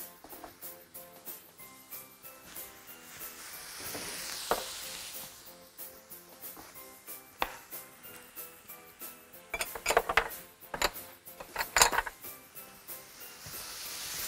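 Chicken livers sear in a hot pan with a continuous sizzle, broken by clinks and scrapes of a utensil stirring and turning them against the metal. The sounds sharpen and bunch together toward the end.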